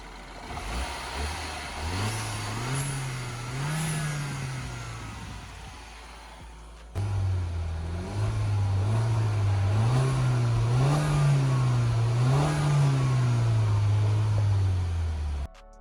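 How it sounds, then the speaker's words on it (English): A car engine running after a new timing chain was fitted, revving up and down in smooth swells over a steady mid-pitched hum, loud and close with a brief dip midway, no talk. "that's how the engine sounds right now after a new timing chain fitted"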